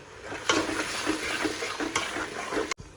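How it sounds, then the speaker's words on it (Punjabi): Tomato paste with onions fries in a pan, a close, steady sizzle broken by rhythmic scraping strokes of stirring, ending with a sharp clack and brief cut. "ਟਮਾਟਰ ਦਾ ਪੇਸਟ ਪਾਉਣ ਤੋਂ ਬਾਅਦ ਉਹਨੂੰ ਵੀ ਆਪਾਂ ਚੰਗੀ ਤਰ੍ਹਾਂ ਭੁੰਨ ਲਿਆ"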